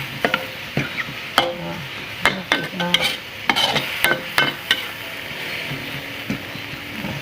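Minced pork stir-fried with holy basil and chili in a pan, repeated sharp scraping clinks of a spatula against the metal over a steady sizzle, close and fairly loud, with no talking.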